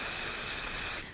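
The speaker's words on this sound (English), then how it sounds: "So just be careful when you are spraying and get it right in the very center." Spray adhesive hissing from an aerosol can onto an embroidery hoop, one steady close burst that cuts off at the end.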